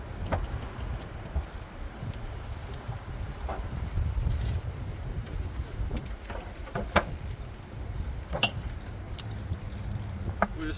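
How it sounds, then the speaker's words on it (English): Outdoors at a beehive in cold weather, wind buffets the microphone with a continuous low rumbling roar. A few faint clicks and handling bumps sound over it, and no one speaks. "this wind is kind of annoying"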